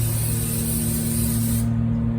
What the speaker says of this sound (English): And now we're going to spray